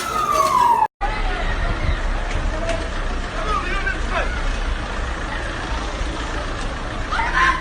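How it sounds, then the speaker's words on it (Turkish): A fire engine siren wails and warbles through a noisy street scene after an earthquake in Turkey, with traffic rumble and crowd babble throughout after a brief cut. "Hemen dakikasında itfaiye geldi."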